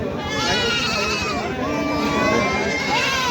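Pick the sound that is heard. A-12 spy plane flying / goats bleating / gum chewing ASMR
goats bleating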